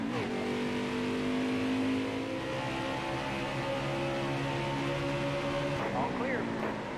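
A NASCAR Heat 5 race car engine drones loud and steady, holding a high sustained pitch with layered harmonic whine, then dipping briefly near the end; a voice talks over it.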